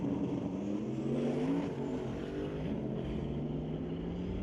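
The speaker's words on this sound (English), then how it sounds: "Spinning up the rear tires is Pat Hearn" A turbocharged drag race car spinning its rear tires at the starting line of a drag strip, its engine a steady, distant, droning roar with rising and falling pitch that holds throughout.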